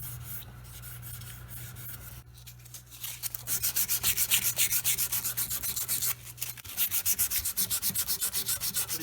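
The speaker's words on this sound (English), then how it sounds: "filed that smooth, and gave it a light sanding" Light hand sanding on a mahogany candlestand from around 1810 makes close, rhythmic rubbing strokes that repeat quickly and evenly, following a quieter stretch of scraping at the start.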